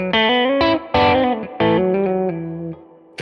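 Electric guitar played through the middle pickup sounds a short sequence of plucked chords and notes, loud and close, with brief gaps between strums and a final ringing chord.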